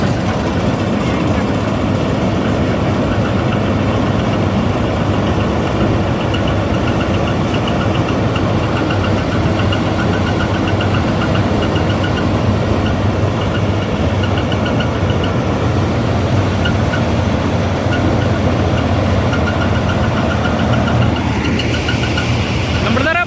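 A combine harvester engine runs steadily and loudly nearby while harvesting paddy, a constant low rumble with a rattling mechanical hum that never lets up.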